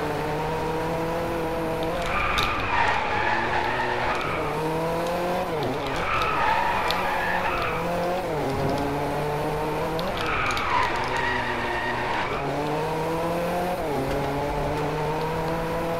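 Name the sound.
RUF CTR3 Clubsport race car drifting, from video game DRIVECLUB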